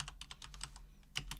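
Quick keystrokes on a computer keyboard while a command is entered for a Raspberry Pi 4 setup, a short close run of taps ending in a couple of firmer key hits.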